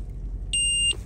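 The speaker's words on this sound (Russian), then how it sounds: "И пищит, как всегда, у нас система по платным японским дорогам." The Japanese toll road system unit in a new Toyota Prius PHV gives one short, clear electronic beep against a low, steady cabin rumble.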